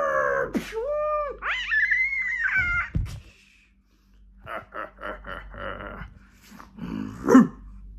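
A cartoon dog barks, growls and snarls during a fight, in loud, close bursts broken by a quiet pause and then a run of short, rapid barks.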